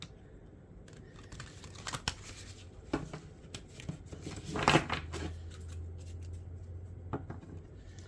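Oracle cards handled during a spirit tarot reading, with scattered soft shuffles, taps and one louder burst of card rustling near the middle over a quiet room hum; no talking.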